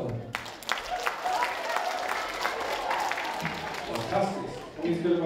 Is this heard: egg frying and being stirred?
no